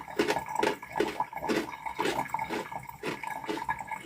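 Water runs steadily from a faucet while a kitten drinks from the stream, producing a soft, continuous splashing trickle with rhythmic lapping pulses, fairly quiet and with no voices.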